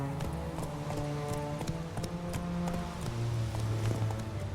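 Horse hooves clip-clop at a steady walking rhythm in The Witcher 3 video game, moderately close and continuous over a bed of game music, with no talk over it.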